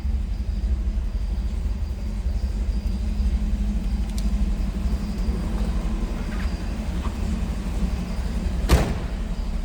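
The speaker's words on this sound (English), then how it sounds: "Door closes beautifully" A 1968 Chevrolet Camaro convertible with a 427 big-block shuts its door with a single solid thunk near the end, set against a continuous low engine rumble that carries throughout.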